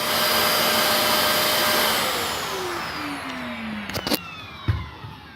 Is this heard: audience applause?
no